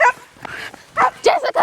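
A dog gives a few short, sharp barks and yips in quick succession, close and fairly loud, set in a game about poisonous dogs.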